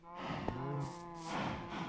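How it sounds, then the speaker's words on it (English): Cows on a farm in the Minecraft video game give long, low, drawn-out moos that overlap one another. The calls are clear but fairly quiet, and no one talks over them. "We have a cow farm here."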